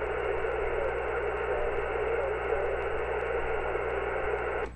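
Amateur radio contest reception during a field day, with a steady hiss of static filling the band and a weak signal buried beneath the noise, heard alone with no clear voice.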